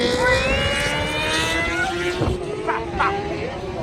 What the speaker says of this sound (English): Here come the British SuperBikes